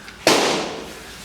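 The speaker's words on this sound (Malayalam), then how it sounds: "അപ്പുറത്ത് പടക്കം പൊട്ടിയതാണെന്ന് തോന്നുന്നു." A single sharp firecracker burst from somewhere nearby, heard during fish biryani cooking, a sudden loud crack with a short decaying tail.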